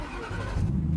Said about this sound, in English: so that we have a push button engine start